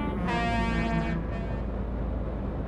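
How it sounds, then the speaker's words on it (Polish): Truck horns sound from across the road in the Euro Truck Simulator 2 driving game, a long blaring horn tone holding for about a second over a dense rumble of engine and road noise. "Znowuż trąbią z drugiej strony ulicy"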